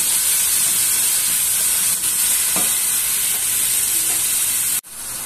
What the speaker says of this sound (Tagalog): dito na natin igisa yung sibuyas at kamatis sa pinagtanggalan